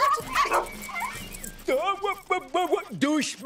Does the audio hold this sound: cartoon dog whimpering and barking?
yes